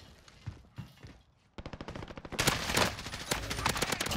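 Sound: gunfire shooting a claymore in Warzone video game

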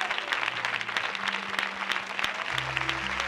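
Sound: studio audience clapping hands

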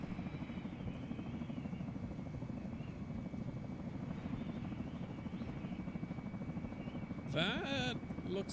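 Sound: helicopter flying in ArmA 3 video game

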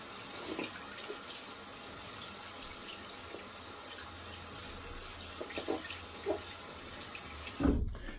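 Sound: tap water running over shaving brushes while cleaning

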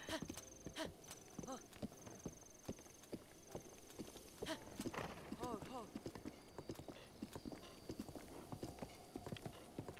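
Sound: horse hooves in video game Zelda Breath of the Wild

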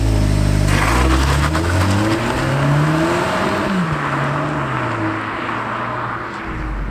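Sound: VW Polo GTI engine accelerating

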